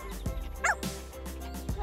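A cartoon dog gives a few short, bright barks and yips mixed with whimpering, close and lively, in quick bursts over about two seconds.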